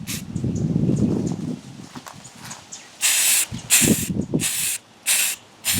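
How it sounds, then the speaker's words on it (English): Black spray primer hisses from an aerosol can onto miniature board-game figures for Shadows of Brimstone, coming as several loud separate bursts of roughly half a second to a second each after a softer rustling start, close to the listener. "we'll spray the other side"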